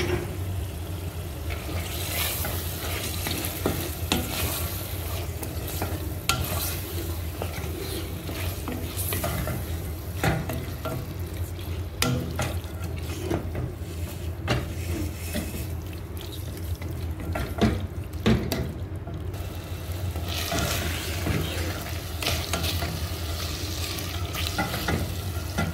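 Chicken frying and sizzling in a pan while it is stirred steadily, with a continuous crackle and frequent scraping strokes close by. No voices are heard.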